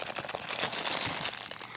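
A plastic packet crinkles and crumples as it is opened up close, a short run of dense rustling and crackling with no voices.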